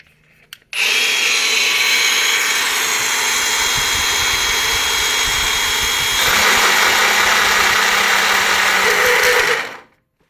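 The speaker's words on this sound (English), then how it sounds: "So yeah, let's do some drilling." A cordless power drill whines steadily at close range for several seconds, its pitch shifting partway through as it bores into the metal frame of a Toyota FJ60, then stops.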